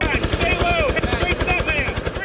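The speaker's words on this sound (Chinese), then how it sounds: "直升机破例停在460公尺高的狭窄山顶" A rescue helicopter landing on a narrow snowy mountaintop 460 metres up during a winter storm in the US, its rotor thumping in a fast, steady chop with engine whine, loud and close, while a voice talks over it.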